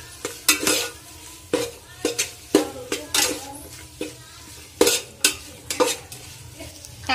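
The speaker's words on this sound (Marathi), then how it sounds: "तर आपण आता या भाजलेल्या मसाल्यामध्ये आपले हे साहित्य टाकणार आहोत. जर असं मस्त असं हलवून घ्यायचं ह्याला." Vegetables are stirred into roasted masala in a pan for a mixed veg Kolhapuri, giving repeated loud spoon scrapes and clanks over a low sizzle, in an uneven rhythm.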